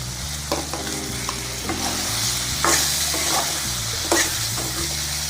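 Taro root sautés in a pan with softened tomato, a continuous close sizzle broken by a few sharp stirring scrapes.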